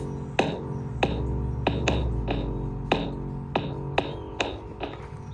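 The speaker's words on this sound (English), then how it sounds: "Add a little kick." A kick drum is layered into an electronic beat: a steady series of punchy thuds, about one every half second, over a sustained, pitched-down bassy synth tone, close and fairly loud, with no talking.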